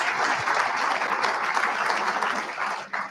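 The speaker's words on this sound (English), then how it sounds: "let's hear one last round of applause for our 11 hacks" An audience at a live hackathon gives a warm round of applause for the competing teams, dense clapping that holds steady and then trails off near the end.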